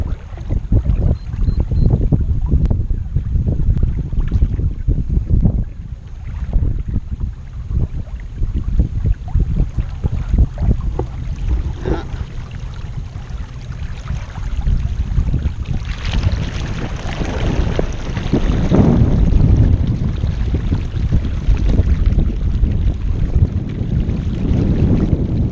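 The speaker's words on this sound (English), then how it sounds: "Windy though, a little windier than I'd like to be out on a kayak" Gusty wind buffets the microphone with heavy low rumbles and bursts, continuous throughout, loud and close outdoors on the water while kayaking.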